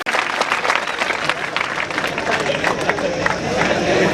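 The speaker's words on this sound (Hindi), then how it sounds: "तो जोरदार तालियां हमारे रहीम खान साहब के लिए" A crowd at a cricket tournament applauding Rahim Khan, a dense and loud burst of clapping that lasts the whole time, with some indistinct crowd noise underneath.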